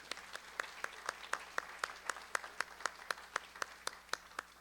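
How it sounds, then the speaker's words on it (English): Sparse applause from a small audience at a storytelling showcase, a few hands clapping in a steady, even rhythm, fairly faint with no talking over it. "give them a round of applause"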